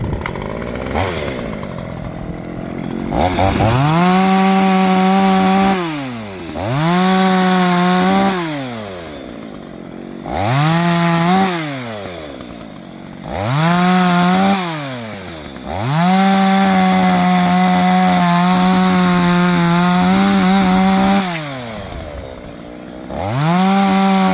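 A chainsaw revs and bites into wood repeatedly, its loud engine whine rising and dipping in cycles with brief idling pauses between cuts.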